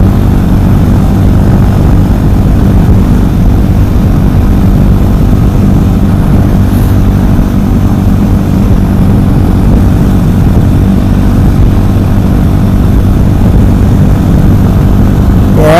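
A KTM 500 EXC supermoto motorcycle drones steadily and loudly while riding, its engine hum blended with heavy wind buffeting throughout.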